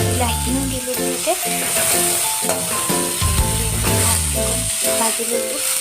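Onion, ginger, garlic and tomatoes fry in a pan for a mutton curry, giving a steady, close sizzle with occasional stirring throughout.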